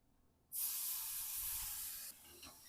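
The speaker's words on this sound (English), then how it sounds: "We're going to hear that incredible sear" A lamb steak sears on a Schwenk infrared grill running at 1500°F, giving a sudden loud, steady sizzling hiss that holds for over a second and a half, then drops to a faint crackle.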